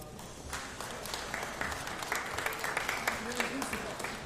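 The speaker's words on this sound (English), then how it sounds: "Let's give them a round of applause" An audience at a Los Angeles City honoring event for FOX 11 KTTV's 70th anniversary claps in a moderate round of applause, individual claps standing out over a murmur of crowd noise and some talk.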